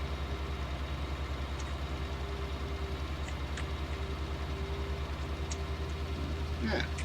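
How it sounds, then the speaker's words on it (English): A farm tractor running steadily while pulling a big old lime spreader gives a continuous low, droning engine hum with a constant rumble that holds at an even level throughout. "tractor's working well with the big old spreader"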